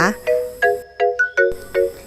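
A notification bell sound effect: a quick series of about six bright, ringing chimes in a rising and falling pattern, clear and close with nothing else behind it.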